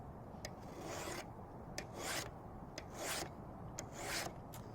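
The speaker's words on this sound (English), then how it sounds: "Using a file, follow the existing angle of the blade." A hand file rasps along a shear blade, sharpening it at its existing angle: four slow, even strokes with brief pauses between, close and clear over a quiet background.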